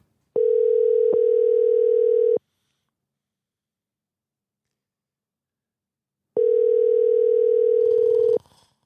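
Two long steady electronic tones of a phone ringing, the first about two seconds, then a pause, then another, ending with a brief rustle.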